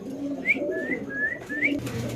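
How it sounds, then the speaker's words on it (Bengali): Pigeons at a market stall coo in a short run of soft, rolling calls, about four in a row, close by and fairly quiet, with no voices. "এখানে আছে এক জোড়া সাতচল্লিশ নম্বর কবুতরের কাছে কি কবুতর এটা ভাই"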